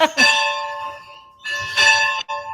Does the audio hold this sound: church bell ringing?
yes